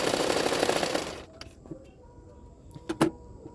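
A sewing machine runs steadily for about a second while stitching along the edge of a blouse belt on a double katori blouse, then stops, leaving quiet handling clicks and a couple of short knocks.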